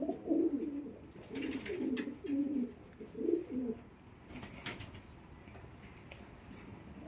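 Pet pigeons coo in soft repeated phrases close by, several low rolling calls in a row with a quieter pause toward the end.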